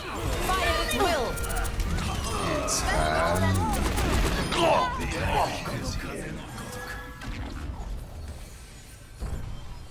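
Rapid gunfire from an Overwatch match, fast bursts layered with game effects and a hoof-like clatter, loud throughout under in-game character voice lines.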